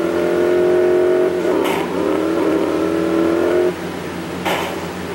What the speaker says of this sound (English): So now we need to drive back where we came from.